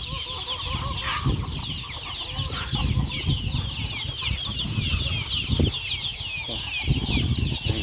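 Chickens and chicks cluck and peep repeatedly at close range on a farm, a busy mix of calls scattered throughout, with a few flapping or rustling bursts between them.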